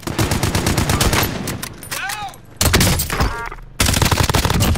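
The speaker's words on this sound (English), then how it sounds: "Taking shots here." Gunfire in the military shooter Call of Duty: Modern Warfare: loud bursts of automatic fire and rapid shots with brief pauses, dense and close, with whooshing effects in between.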